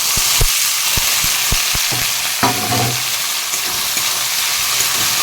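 Onions, dried chillies and tomatoes sautéing in a pan, giving a steady close frying sizzle with a run of sharp spatula taps and stirring scrapes spaced through it.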